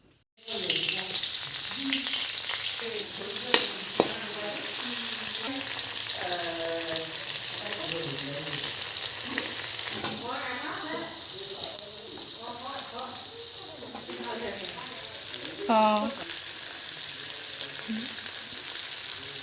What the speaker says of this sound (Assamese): এতিয়া মাছ কেইডোখৰ ফ্ৰাই কৰি লওঁ